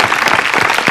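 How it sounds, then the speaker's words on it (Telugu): A group of girls clapping together as a show host asks for applause, a dense, steady burst of handclaps close up and loud, with no voices over it. "సో ఒకసారి శ్రవంతికి గర్ల్స్ అందరూ గట్టిగా క్లాప్స్ కొట్టాలి"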